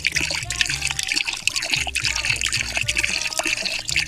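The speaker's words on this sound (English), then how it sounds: "Let's pour some Orbeez in here." Orbeez water beads poured into a toy, a busy rattling, trickling stream of small wet beads tumbling in close and fairly loud, with faint talk in the background.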